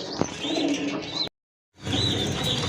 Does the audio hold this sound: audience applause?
no